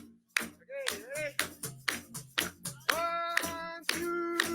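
Steady hand claps keep time at a live drumming show for a summer Mardi Gras event, sharp evenly spaced slaps ringing out over sustained sung or musical tones.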